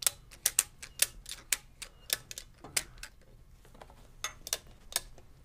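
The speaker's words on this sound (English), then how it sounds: "this ratcheting action actually pulls the target end of the boom up a little to help counterbalance the weight" A ratchet on a pipe boom rig line is cranked to tighten it, giving a run of sharp, close metallic clicks in an uneven rhythm with brief pauses.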